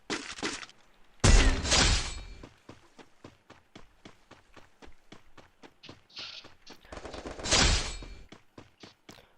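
Gunfire rings out in a shooting video game: loud bursts of shots and a rapid string of sharp reports with pauses between, alone with no talk.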